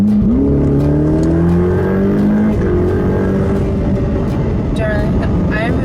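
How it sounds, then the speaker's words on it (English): A 2020 Ferrari F8 Tributo Spider accelerating on the road, its engine rising in pitch through the gears with a loud, close drone, shifting down near the end, while people talk over it. "We're driving the Ferrari F8 Spider."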